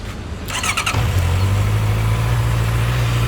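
A 2017 Honda CBR 650F motorcycle with its stock exhaust is cranked by the starter and fires on the first try, then settles into a steady, quiet, close idle with a low hum.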